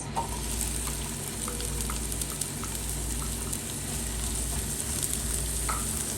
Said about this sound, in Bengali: সেই তেলের মধ্যে আমি দিয়ে দিচ্ছি কিছু পেঁয়াজ